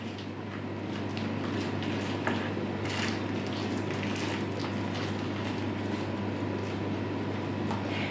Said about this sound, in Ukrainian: Зараз поставлю сюди тарілочку і заливаю е, наші помідори кип'яченою водою.